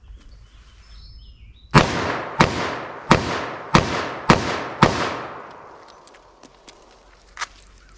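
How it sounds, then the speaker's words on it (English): A revolver loaded with .44 or .357 Magnum rounds fires six rapid shots in quick succession, each loud and sharp with a decaying ring. Faint clicks and small metallic handling sounds follow. "I'm just going to pull up my revolver, fire 6 rounds as fast as I think I can hit that target."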